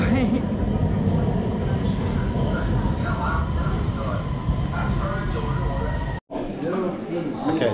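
A Chongqing metro train carries riders, a loud steady rumble and whine of the rail car in motion with a brief dropout near the end, and voices talking over it.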